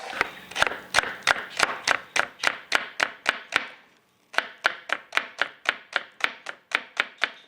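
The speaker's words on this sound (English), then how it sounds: "now we're gonna cut up some green onion" A knife chops green onion on a cutting board in steady, rapid strokes, about two dozen crisp, close knocks with a short pause midway, no voices.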